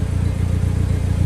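A Hyundai Genesis Coupe 2.0 being driven, its engine giving a steady, close mid-range drone with a faint pulsing rumble throughout, alone and without talk.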